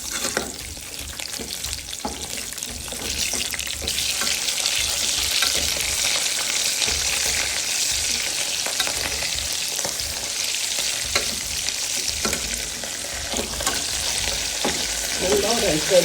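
Turkey pieces frying in hot oil for a Nigerian jollof rice meal, a steady loud sizzle and crackle running throughout with occasional stirring sounds, no talking.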